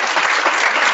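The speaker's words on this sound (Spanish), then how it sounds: "dame un aplauso a ese, un aplauso." Church congregation applauding together, a dense, steady wash of clapping that fills the space evenly from start to finish with no voices on top.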